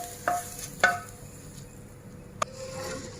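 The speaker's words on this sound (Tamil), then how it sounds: "இதை கிளறி விடுங்க." A spoon stirs ghee rice in a cooking pot with milk and water, giving a few soft scrapes and sharp metallic clinks spaced over a few seconds. The sound is quiet and close, with no one talking.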